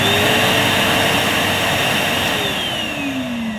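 A Numatic HVR160 Henry Compact vacuum cleaner runs its single-speed motor, giving a steady, loud, close-up whirring drone that holds alone throughout with only a slight drop in level.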